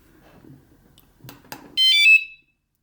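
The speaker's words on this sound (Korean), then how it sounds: "알리발 자전거 경보기 테스트입니다." A few faint clicks and knocks, then a loud, piercing electronic tone from a bicycle anti-theft alarm blares for about half a second and cuts off.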